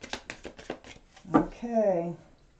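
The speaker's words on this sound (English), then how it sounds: "Libra, one more shuffle." A deck of tarot cards being shuffled by hand, a quick run of about seven crisp riffling snaps followed by someone speaking close by.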